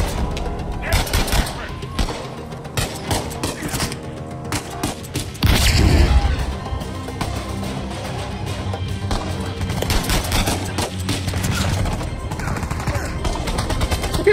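Dense gunfire in the video game Uncharted 4: A Thief's End, with rapid automatic bursts and heavy impacts layered over a busy game soundtrack, loud and nearly continuous throughout.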